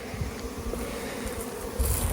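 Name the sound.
honey bees buzzing around a laying worker colony hive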